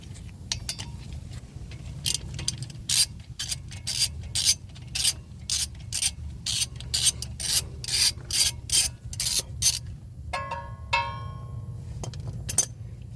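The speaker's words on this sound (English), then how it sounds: "before I can replace it, I have to remove the 10mm bolt" A ratchet wrench works a 10mm bolt loose on a 2013-2016 GMC Acadia during a speed sensor wire replacement, giving a close, steady run of quick rasping clicks in repeated strokes with no talking.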